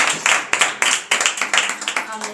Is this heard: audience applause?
yes